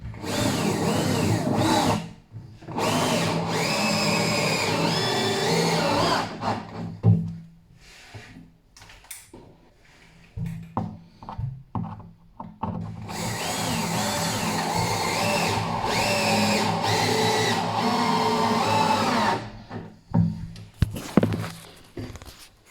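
A power drill drives three-inch screws into hard beech end grain, whining loudly in long sustained runs with labouring pitch, separated by quieter stretches of clicks and handling knocks.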